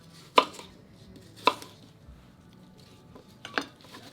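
A knife cuts through vegetables for butternut soup or beet-apple slaw on a cutting board, three sharp separate chops spaced about a second or more apart, close and crisp against a quiet kitchen.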